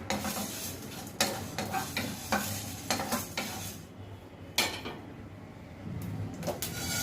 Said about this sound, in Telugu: 2 చెంచాలు మెంతులు కొంచెం చిట్టపట్లాడించుకొని